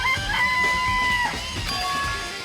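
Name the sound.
chickens clucking in a coop, from a video game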